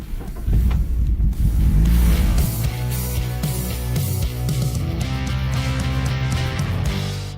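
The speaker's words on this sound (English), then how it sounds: "The sound of the engine reminds you that decades have passed, yet VAZ is still making cars with these kinds of engines." A VAZ car engine runs loudly and close with a deep, steady rumble, carrying on without speech.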